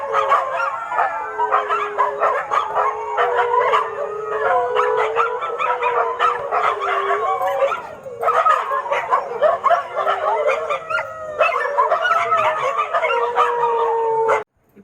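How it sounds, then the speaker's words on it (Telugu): Many dogs howl together at midnight, a chorus of long wavering wails and yelps rising and falling in overlapping waves, loud and close, continuing almost without pause before stopping abruptly. "అర్ధరాత్రి 12ంటికి కుక్కలు ఇలా ఏడుస్తూ ఉంటాయి."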